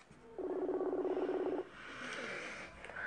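A phone call rings out while waiting for an answer: one steady electronic ringback burst of about a second, followed by a fainter tone, close and without speech.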